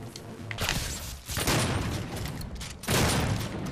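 The static gun in the Doom beta video game fires in dense, crackling bursts, with loud repeated blasts starting and stopping over a few seconds.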